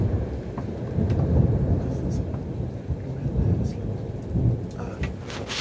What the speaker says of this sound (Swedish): Oj, vilket blixt